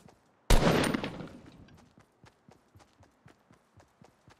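Gunfire in a Fortnite battle royale match: one sharp, loud blast decays into a string of fainter, evenly spaced distant shots and footsteps.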